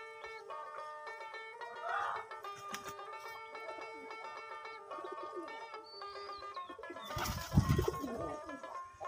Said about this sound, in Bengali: 27 জোড়ার মতো কবুতর আছে।